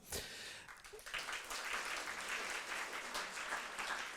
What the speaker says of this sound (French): je voulais que vous applaudissiez une dernière fois les intervenants